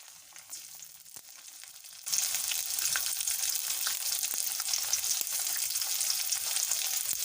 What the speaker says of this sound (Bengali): পেঁয়াজটা ভাজা হয়ে গেলে এর মধ্যে দিয়ে দিব আদা বাটা রসুন বাটা কিছুটা কাঁচামরিচ বাটা জিরা বাটা